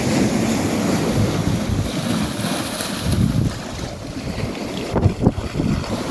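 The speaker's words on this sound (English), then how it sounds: "I'm going to go with it's coming in because the waves really got me right up here." Sea waves wash onto a Scottish beach under heavy wind noise that buffets the microphone, forming a steady loud roar with a couple of stronger surges near the end.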